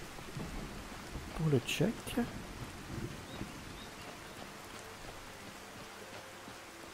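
Steady rain falls in the video game Skyrim, a soft continuous hiss with a brief rumble of thunder early on, while a person speaks over it.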